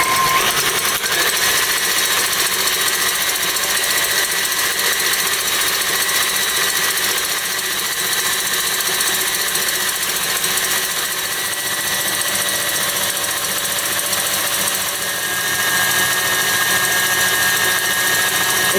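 Electric mixer whipping paleo marshmallow mixture at high speed, a loud, steady motor whine with a bright, hissing beat that runs unbroken throughout, no voices over it.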